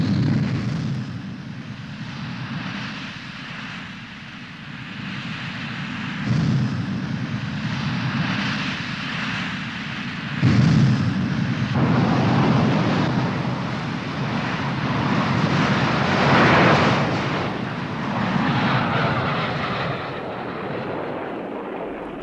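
A Soviet jet fighter flies during pilot training, a loud sustained roar of jet engine noise that swells and shifts as the aircraft passes, with no speech.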